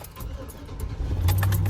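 Keys jangle near the microphone as a truck is started, a brief metallic rattle followed by a low engine rumble building at the end.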